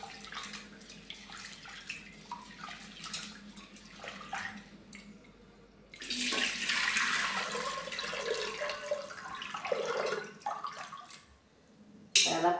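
Gram dal being rinsed with water: soft splashes and sloshing at first, then a louder running-water rush from about midway, a pause, and a final burst of splashing, all nearby with no speech.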